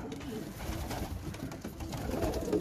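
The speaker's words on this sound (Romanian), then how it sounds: "Porumbeii" Pigeons cooing inside a crowded aviary under construction, soft low rounded coos repeating over a steady background of rustling and ambient noise, moderately near.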